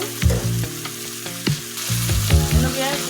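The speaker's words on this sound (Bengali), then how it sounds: "যতটা কষানো হলো আছে এটা শুধু আমি তেলে কষিয়ে নিব" Beef frying in oil, with loud, close sizzling and repeated scraping, clattering stirs of a spoon against the pan in short bursts, no speech.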